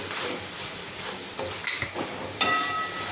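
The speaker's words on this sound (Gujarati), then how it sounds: "હવે આપણે આ જે બ્રેડના ટુકડા કરીને રાખ્યા છે તે લઈ લઈશું અને મિક્સ કરી દઈશું" Bread pieces being stirred into a tomato masala in a pan, with a steady low sizzle and a few scraping spoon strokes against the metal, close and moderately quiet, no talking.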